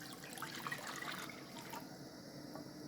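Four glasses of water are poured into a cooking pot, giving a steady, close splashing rush that runs throughout without pause.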